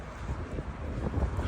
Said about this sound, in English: It's windy. When it's windy, it is cold.